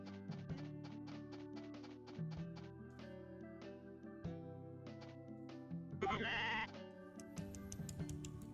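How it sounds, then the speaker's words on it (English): A pregnant sheep in the farming video game Story of Seasons: A Wonderful Life bleats a few times over the game's gentle background music, with no voices. "we need to check in on our pregnant little sheepy"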